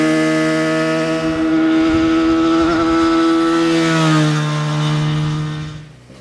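Small motorcycle at full throttle, its engine whining up in a strong rising harmonic tone close by, holding high before easing off and fading out at the end.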